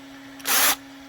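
Power drill boring a hole through an appendix holster rig, one short loud whirring burst of about a third of a second, close up, with a steady low hum underneath.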